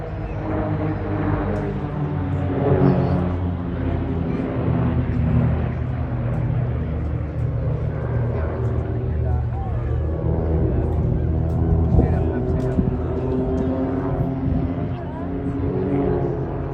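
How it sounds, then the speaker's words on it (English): A military jet flown by a test pilot at the Wales Air Show in Swansea gives off a continuous, loud engine roar with tonal drone, while a commentator talks over it throughout. "Here's the pilot flying the aircraft"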